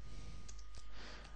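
One computer keyboard key is pressed, giving a single short, faint click against quiet background hiss.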